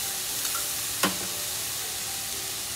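A khoya and semolina laddu mixture being stirred in a pan gives a soft, steady, close scraping hiss with one small click partway through. No one speaks.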